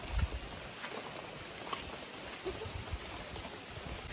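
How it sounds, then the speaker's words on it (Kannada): Heavy rain falls as a steady, soft hiss of drops with a few faint, sharper patters, heard alone at fairly low level. "ಜೋರು ಮಳೆ ಬಂತು"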